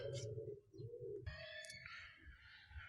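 A pet Australian budgerigar calls softly inside a handmade birdhouse, a few faint chirps and warbling notes close by in a quiet room.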